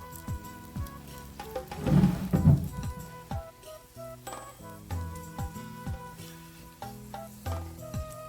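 Toor dal vadai batter dropped into hot frying oil, a burst of bubbling sizzle swelling up then settling into steady crackling, close and moderately loud amid light kitchen clatter.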